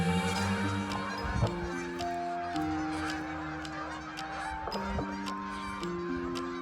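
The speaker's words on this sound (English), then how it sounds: "We got even more birds." A flock of geese in a Canadian winter honking repeatedly, overlapping calls rising and falling against a steady background of wind or distant noise.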